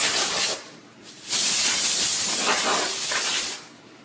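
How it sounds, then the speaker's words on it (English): Canned compressed air sprays onto an NES 72-pin connector in bursts: a short hiss, a pause, then a longer loud sustained blast that tapers off near the end. "I like to take it and spray some compressed air, blow off all the loose crud."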